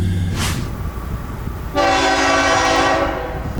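A southbound CSX freight train sounds its horn loudly and steadily, a sustained chord blaring over the low rumble of the passing train after a brief quieter start.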